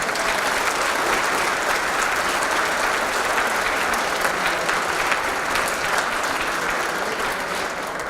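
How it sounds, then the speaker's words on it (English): Loud, dense audience applause at a Hall of Fame ceremony, a sustained roar of clapping hands that holds steady from start to finish without a break. "Give Charlie Burry a big round of applause, ladies and gentlemen."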